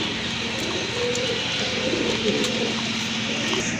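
Pigeons kept at a breeder's sale coo softly and repeatedly nearby, a low rolling murmur over a faint background hum.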